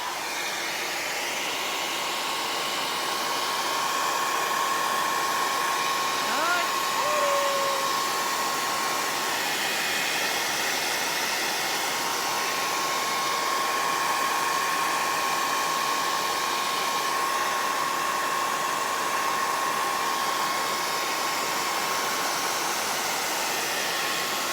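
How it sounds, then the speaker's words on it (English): A hair dryer blows steadily at close range, a loud continuous airy whoosh with a faint high whine running through it, no voices. "I'm gonna turn my hair dryer on."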